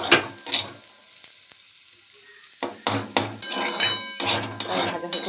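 Sago hits a pan for frying into sabu pulao, with bursts of sizzling and metal spoon scraping, a quiet pause, then several rapid loud stirring strokes against the pan.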